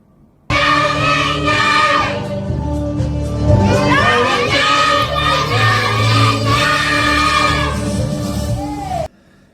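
A crowd of children at a Sunday Bible class at a church in Chiang Rai, northern Thailand, shouting a praise chant together, loud and continuous with rising and falling group voices for about nine seconds.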